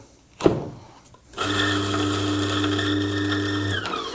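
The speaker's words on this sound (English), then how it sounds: "Going to put in about a capful of tablets initially and grind that through." A coffee grinder grinds cleaning tablets: a brief click, a short pause, then a loud, steady motor whine with a hard grinding buzz that runs evenly to the end.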